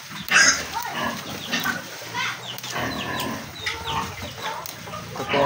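Pigs grunt while being fed sweet potato tops, with chickens clucking nearby in a farmyard; the animal sounds come in irregular bursts at moderate distance.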